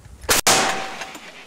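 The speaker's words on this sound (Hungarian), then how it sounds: "Ez a csapat hajnal óta folyamatosan tüzel az ágyújával." An artillery cannon fires near Pokrovsk's outskirts in Ukraine, giving a sharp, loud blast with a brief metallic ring that trails off into a fading rumble.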